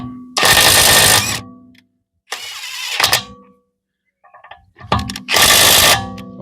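A Parkside Performance impact wrench loosening a bolt, heard as three loud, close bursts of rapid hammering with short pauses between them and no voices.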